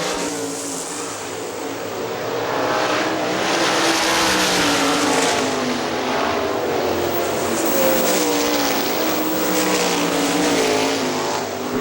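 Sprint cars racing on the dirt oval at Hartford Speedway Park, engines roaring loud and close in a continuous pack, swelling and fading as the cars pass and power through the turn.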